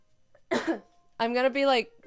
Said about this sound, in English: I'm coughing in your ears for the headphone users.